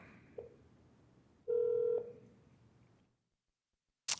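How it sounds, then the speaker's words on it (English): A phone dials out to a favorite contact: a brief tone, then a louder steady dial tone lasting about half a second, then silence and a sharp click at the end. No one speaks. "if you just tap the name, it'll dial right out"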